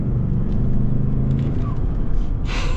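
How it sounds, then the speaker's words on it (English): Twin-turbo V6 in a Lincoln Navigator Black Label full-size luxury SUV, a steady low engine rumble and road noise building under acceleration, muted inside the cabin with a brief rushing swell near the end. "let's see what this twin-turbo V6 is all about"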